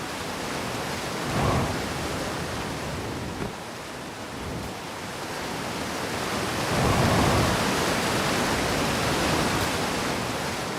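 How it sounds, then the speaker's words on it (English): A waterfall in the video game Outer Wilds rushes in a dense, continuous roar of falling water that swells louder toward the end, with no voices. "Let's go to the top of this waterfall."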